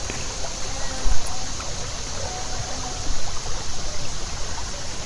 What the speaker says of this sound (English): I'm filling it up, pouring it out.